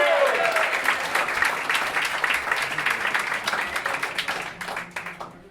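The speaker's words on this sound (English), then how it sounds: "give him a round of applause." Audience applause fills a small club, the Lizard Lounge, after a collaborative live music set: dense, steady clapping from a close crowd that holds strong for several seconds before gradually thinning out toward the end.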